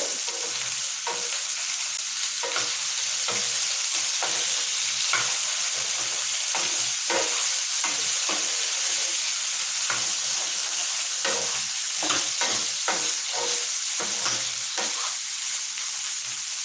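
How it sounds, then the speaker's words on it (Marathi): Potatoes fry in hot oil with a continuous steady sizzle, punctuated by frequent scraping stirs throughout, no voices. "इथे आता तुम्हाला बघा खाली छान अशा बटाटे आहेत ना आपल्या तेलामध्ये छान असे फ्राय होतात"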